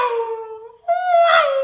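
A voice imitates a Formula 1 car passing by on a racing circuit, rising to a sustained whine, briefly breaking, then resuming with a higher, brighter pitch sweep, loud and close with no other sounds.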